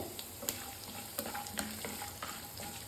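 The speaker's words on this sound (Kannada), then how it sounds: "ಈಗ ಇದು ಚೆನ್ನಾಗಿ ಗೋಲ್ಡನ್ ಕಲರ್ ಬರೋವರೆಗೂ ಫ್ರೈ ಮಾಡ್ಕೊಳ್ಳೋಣ" Peanuts frying in a pan with chana dal and urad dal for horse gram upma, a low, steady sizzle with light scraping stir strokes and small clicks, close and fairly quiet.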